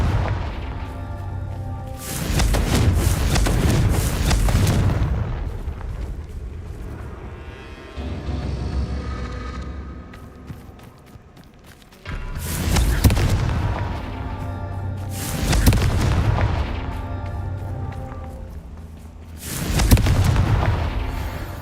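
Confringo spell blasts in the Hogwarts Legacy video game: several loud booming explosions in separate bursts, each with a rumbling tail and short quieter gaps between them.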